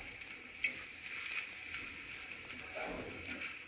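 Flatbread fries quietly in a pan, a soft continuous sizzle with a brief disturbance as it is turned to the other side; fairly faint and close, no talk.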